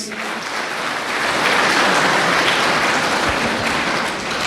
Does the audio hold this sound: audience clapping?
yes